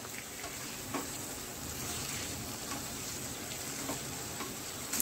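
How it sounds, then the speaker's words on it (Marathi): Tomatoes sautéing in butter over a high gas flame, a steady even sizzle and crackle running throughout with a few faint clicks of stirring, alone and at close range. "आपण बटरमध्ये थोडंसं हे परतवून घेऊया टोमॅटो।"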